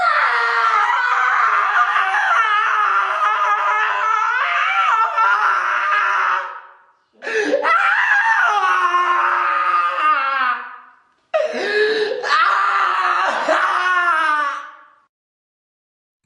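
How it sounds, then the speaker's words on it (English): An old man screams in agony as he catches fire inside a church, three long, loud, wavering cries separated by short silences, with a bright ringing tone in each. "His screams echoed throughout the church."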